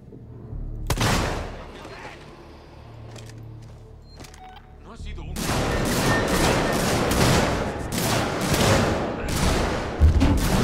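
Gunfire rings out in the sci-fi horror video game Alien: Isolation as loud, dense bursts of shots and booming impacts. A quieter stretch with scattered sharp cracks comes first, then a sustained heavy volley, with a voice talking at times underneath.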